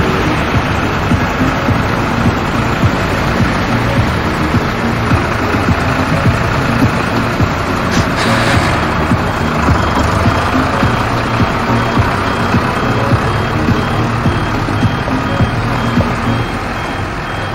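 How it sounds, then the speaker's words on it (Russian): Dump truck clearing snow, heard as a steady low engine idle and rumble with a reversing beeper running throughout, loud and close with no talk. "сейчас он кузов самосвала вывалит снег"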